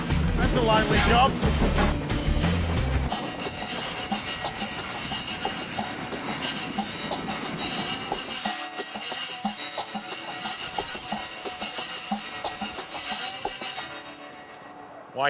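A steam train rumbles and clatters along rails on the Weka Pass Railway in New Zealand, loud at first and then easing into a steady rattle with a faint hiss near the end.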